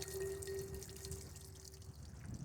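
Water runs steadily through a hose flushing out a car's fender area with the fender removed, a soft continuous trickle and drip close by with a faint tonal hum underneath.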